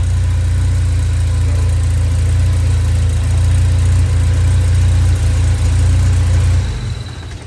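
A tuned car engine idles with its turbo spooling, giving a steady, loud, low rumble that holds for several seconds before dropping off near the end, with no talking.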